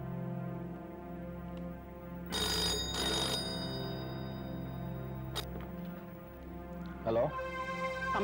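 A telephone rings with a bright repeating electronic bell pattern under music and voices in a TV drama scene, fairly quiet and mixed with other sounds.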